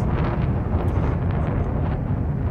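A ship explodes in Elite Dangerous space combat, heard as a dense, sustained roaring rumble that stays loud and steady throughout with no talking.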